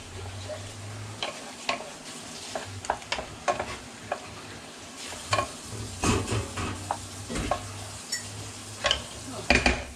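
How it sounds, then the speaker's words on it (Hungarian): A soy sauce mixture bubbles and sizzles in a hot pan while noodles with vegetables are stirred, with steady frying hiss under frequent scraping and clinking of a utensil against the pan, close and fairly loud. "Forraljuk."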